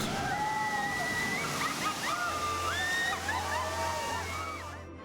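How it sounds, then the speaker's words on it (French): Water sloshes and splashes during a boat ride at Jurassic Park in a theme park, a steady wash of spray with voices and tonal sounds riding over it and a low hum joining midway. "une douche rafraîchissante sur une embarcation dans Jurassic Park"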